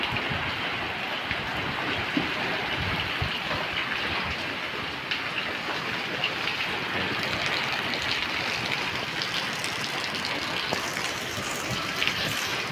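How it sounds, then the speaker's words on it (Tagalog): Large waves beside a fishing boat during a typhoon, with rain, make a continuous broadband rush and wash that stays steady throughout, with no voices over it. "Oh, medyo malalaki na yung alon."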